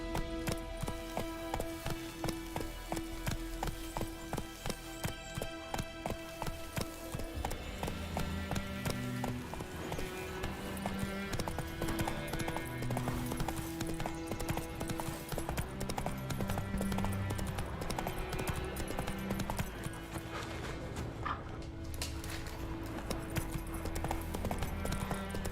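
Geralt's horse Roach galloping in The Witcher 3, a fast, steady clip-clop of hooves running continuously alongside game music, no voices.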